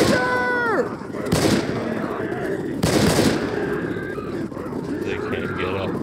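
Rapid gunfire rattles in a Left 4 Dead co-op match, with two sharp bursts of shots over continuous game noise and a lower rumble. A short tonal game sound runs in the background, and players can be heard talking.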